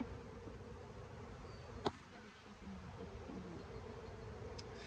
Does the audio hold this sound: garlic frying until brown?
no